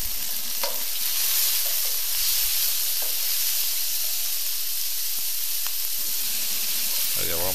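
Minced garlic and ginger root fry in a pan for arroz chaufa, a steady loud sizzle with occasional stirring scrapes running continuously throughout, with no talking.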